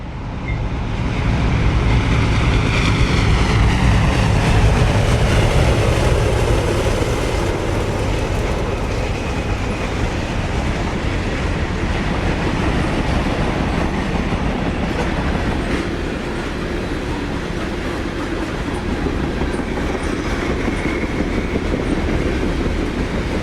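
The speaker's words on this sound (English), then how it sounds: "G51813, a southbound grain train, heads towards Cincinnati." A southbound CSX grain train on the Toledo Sub heading toward Cincinnati rumbles past close by, with a loud continuous roar and rhythmic clickety-clack of wagons over the rails throughout.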